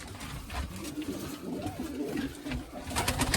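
Soft, low cooing of crested pigeons repeating over a steady background rustle, fairly close, with no talking.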